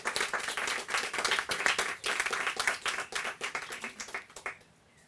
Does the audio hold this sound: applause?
yes